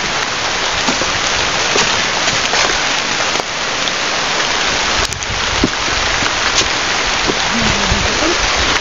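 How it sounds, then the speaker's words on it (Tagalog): Heavy rain pours down in a continuous, loud hiss close by, with drops spattering on surfaces and no voices. "lakas na ng ulan doon"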